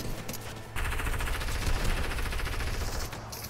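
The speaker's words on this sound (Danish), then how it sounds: "der blev skudt over det hele" Rapid automatic gunfire in the Fortnite video game: a dense, continuous rattle of shots for a few seconds, loud and close, with a softer stretch before it starts.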